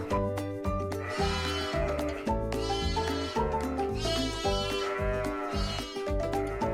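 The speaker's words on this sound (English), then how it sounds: "I hear a sheep." Farm sheep give repeated wavering bleats over a steady, rhythmic pulsing backing that runs throughout, moderately loud and without talk.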